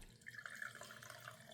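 Vodka poured into a jar of vanilla beans, a soft close trickle and gurgle of liquid, quiet and continuous, with no voices.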